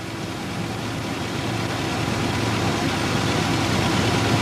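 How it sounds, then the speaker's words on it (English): A car's engine idles steadily near a traffic lane, a continuous low rumble that grows slightly louder over the few seconds, with no talk. "A car with its engine running and the wheels turned towards the traffic lane"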